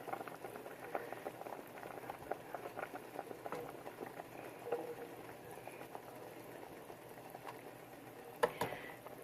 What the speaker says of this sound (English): I let one egg boil a little bit longer